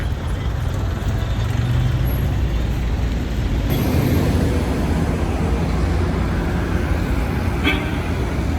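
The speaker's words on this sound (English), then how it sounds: "you can hear the traffic. It's so loud and so crazy." Loud Cairo street traffic in the early morning: a dense, steady roar of vehicles with occasional horn toots, constant and close throughout.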